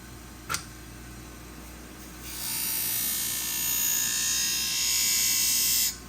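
A Twice As Sharp sharpening machine hones barber shears on its hone side: a brief click, then a steady high grinding whine that rises and holds for several seconds before cutting off abruptly.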